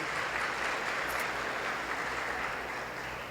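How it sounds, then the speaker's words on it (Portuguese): An audience in a church hall applauds to welcome a missionary couple, a dense, steady wash of clapping that stays loud and even throughout with no clear voices above it. "Vamos recebê-los com uma salva de palmas."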